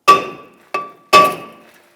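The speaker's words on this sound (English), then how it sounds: "You can use a hammer, give it a tap." Hammer tapping a steel brake rotor off the hub of a 2015-2022 Chevrolet Colorado, three sharp ringing metallic strikes with short decays, close and alone.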